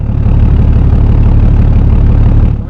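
A BMW with a Deep Idle autochip tune idles with a deep, hollow, steady rumble that holds loud and even throughout, with no revving or talk.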